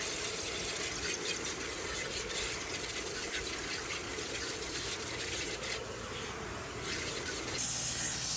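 Light water rinse spraying over the tires and wheels of a 1966 Mustang during a deep clean, a steady close hiss of water that runs continuously with little change and no voices.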